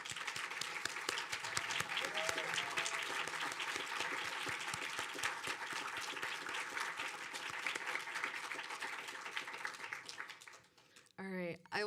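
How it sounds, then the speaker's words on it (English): A large ceremony audience applauds semifinalists at a graduate student mentoring award event, a dense, steady roar of clapping lasting about eleven seconds before fading out, followed by a brief moment of speech at the very end. "give you guys a round of applause"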